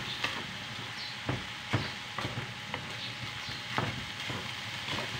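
Ground pork giniling sizzles and crackles in a pan at home, a steady fry hiss broken by sharp clicks of a spatula stirring against the pan at irregular intervals.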